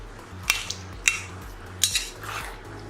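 Paneer being mixed into gravy in a pan, a few sharp metallic clinks of a spoon against the pan amid soft wet stirring, close and brief.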